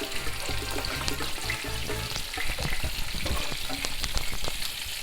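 Picada and peas sizzle and fry in a pan for a meatballs-with-peas dish while being stirred, with a steady close crackle and scraping, bubbling stir strokes throughout.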